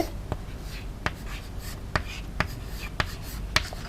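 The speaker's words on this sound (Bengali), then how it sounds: "আমি ব্র্যাকেটে লিখে দিচ্ছি" Chalk or marker strokes on a classroom board during a chemistry lesson, a series of sharp scratchy taps spaced about half a second to a second apart, close and clear with no talk.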